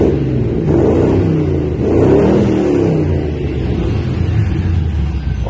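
An Aston Martin DBS V8 engine revs loudly and close by, its rumble swelling and falling in a couple of throttle blips over a steady low drone, with no talk.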